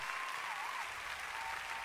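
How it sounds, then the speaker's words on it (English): Applause sound effect: a steady wash of clapping from a crowd, even and moderately faint, filling the whole short stretch without pauses or voices. "That's an applause sound effect."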